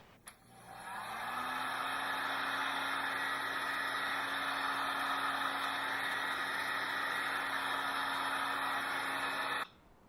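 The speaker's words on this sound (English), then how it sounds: "shrink it to size with the heat gun" A heat gun shrinks heat shrink tubing over a wire lug, its steady, loud blowing whir switching on near the start and holding evenly for about nine seconds before cutting off abruptly.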